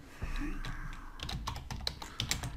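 Fast, irregular clicking of keys on a computer keyboard, close and crisp, with bursts of taps and short pauses and a faint voice murmuring early on.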